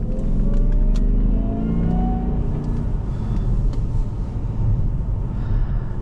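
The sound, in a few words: 2005 Jaguar XJR supercharged engine accelerating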